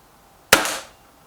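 A single BSA TS Ultra air rifle shot, a sharp, close crack with a short, bright tail that dies away within half a second against near silence.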